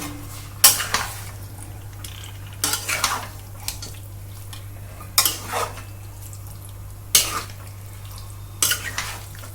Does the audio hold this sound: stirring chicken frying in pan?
yes